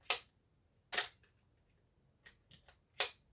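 An Asahi Pentax Spotmatic SP film camera fires its shutter at 1/1000 second, giving several sharp, close mechanical clacks, each a quick slap of mirror and shutter, separated by short pauses.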